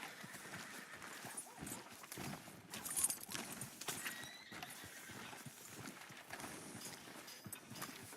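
Horse hooves clip-clop in a steady rhythm in Red Dead Redemption 2, faint and mid-distance, with a horse's whinny and a dog barking mixed into the ambient game sound.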